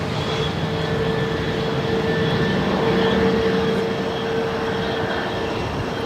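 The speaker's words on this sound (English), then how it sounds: "One of the Jetstar 321neos is just pushed on start there." Steady, continuous jet engine roar and hum from a Jetstar Airbus A321neo airliner starting up after pushback at Melbourne Airport, heard from a distance with an even drone and faint tonal whine throughout.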